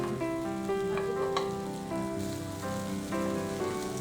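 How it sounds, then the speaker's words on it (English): Cheese patties fry in a little oil in a pan, giving a steady soft sizzle with faint crackles throughout and no talking. "Now all cook them with little more oil."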